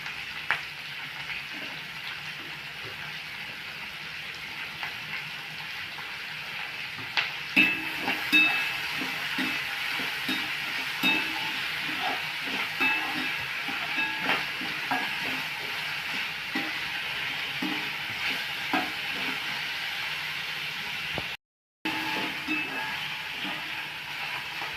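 Onion, capsicum, carrot and tomato sauté together in a kadhai, producing a continuous hissing sizzle with soft intermittent stirring scrapes; the sound briefly cuts out near the end.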